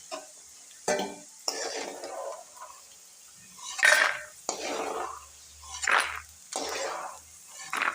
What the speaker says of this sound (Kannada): ನೋಡ್ರಿ ಕಲರ್ ಚೇಂಜ್ ಆಗಿವೆ ಶೇಂಗಾ ಕಾಳು ಈಗ ಇವನ್ನ ತಕ್ಕೊಂತಾನೆ ನೋಡಿ